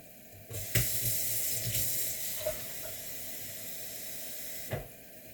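Water runs from a tap in a steady splashing hiss, with a few clunks as it starts and stops.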